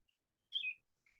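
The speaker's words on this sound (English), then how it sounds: "Oh, that's probably the robins outside." Robins singing outdoors, heard indoors as one short, faint, high whistled chirp and then a softer trailing note amid near silence.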